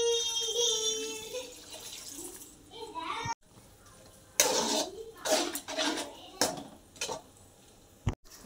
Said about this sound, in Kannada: ಈಗ ಇದಕ್ಕೆ ಸ್ವಲ್ಪ ನೀರು ಹಾಕ್ತೇನೆ